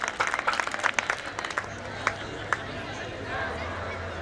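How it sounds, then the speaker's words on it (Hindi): A crowd at a Holi celebration bursts into brisk clapping that thins quickly into a few scattered claps, leaving a low murmur of background noise. "उनके सम्मान में जोरदार तालियां।"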